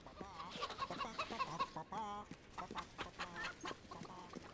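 Several chickens clucking in the video game Fable III, a busy run of short, choppy clucks and squawks that carries on through the clip, fairly close and lively, with no talk over it.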